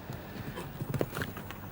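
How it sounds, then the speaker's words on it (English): Horse hooves clip-clopping on ground at a show jumping event at the FEI European Jumping Championships in Donaueschingen, Germany; soft, irregular steps at moderate distance under faint background murmur. "This lovely horse"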